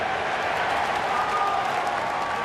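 A baseball crowd at a Milwaukee at Pittsburgh game applauds steadily, a broad, distant wash of clapping and cheering that holds at an even level throughout.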